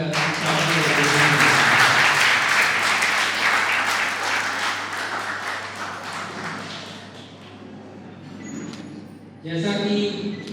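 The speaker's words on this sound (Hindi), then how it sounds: "हमारे मुख्य अतिथियों का तालियां बजाकर स्वागत करें" Students in an audience clap to welcome chief guests at a school cultural theatre programme; dense, loud applause swells early, then gradually thins and fades, ending with a short burst of other sound.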